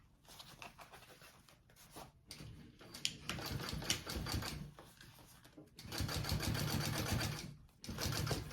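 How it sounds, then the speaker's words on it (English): A home sewing machine top stitches a fabric gusset on a mini backpack, running in several bursts of steady rapid needle chatter broken by short pauses, the last runs louder and longer. "I'm going to top stitch along that"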